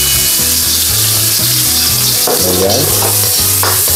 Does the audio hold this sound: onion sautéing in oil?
yes